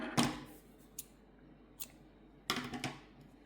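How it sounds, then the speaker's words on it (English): Scissors cut through crochet yarn in a few crisp, close snips, one sharp cut followed by lighter clicks and a final quick cluster of snips in a quiet room. "and cut your yarn."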